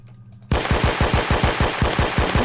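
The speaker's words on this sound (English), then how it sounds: "So I'm using the FAMAS since it has low recoil and I need it for rapid rates of fire and fire." Rapid automatic fire from a FAMAS rifle in the video game Phantom Forces: a steady, evenly spaced burst of loud, close shots starts abruptly after a brief quiet lead-in and runs to the end.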